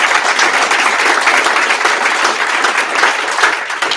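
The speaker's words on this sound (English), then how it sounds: "let's give them a hand." An audience at a county board meeting claps steadily and loudly throughout, a dense, continuous round of applause with no voices over it.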